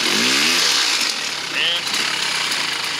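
A Polaris ATV engine runs loud and steady with its wheels spinning, a continuous rough mechanical roar filling the whole stretch, with a brief tonal rise near the start.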